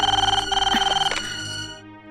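A telephone ringing after a call is dialed home, a rapid warbling electronic ring in two short bursts followed by a fading tone.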